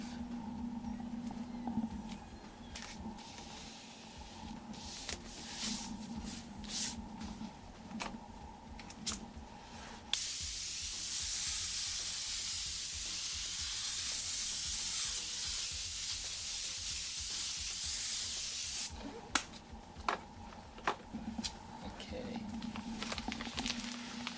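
An airbrush spraying white paint gives off a steady, even hiss that runs for roughly nine seconds. Quieter handling sounds come before and after it.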